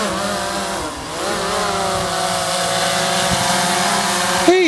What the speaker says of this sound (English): I don't think you can see it, but the drone's way up there.